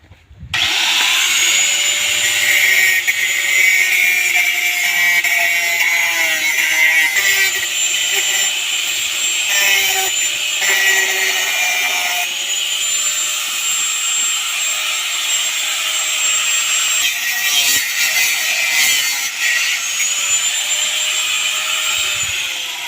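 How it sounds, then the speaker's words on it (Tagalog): Angle grinder cutting aluminum outdoors, a loud, steady high-pitched whine held for the whole stretch with slight pitch dips as the disc bites into the metal. "Gagamit po tayo ng grinder para madali natin makuha."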